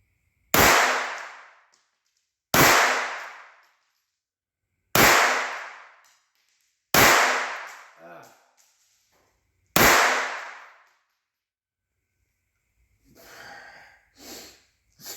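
A Walther .22 pistol firing Silvertip ammunition outdoors: five sharp, loud gunshots spaced about two seconds apart, each with a brief decaying echo, followed by a few soft rustling and handling noises.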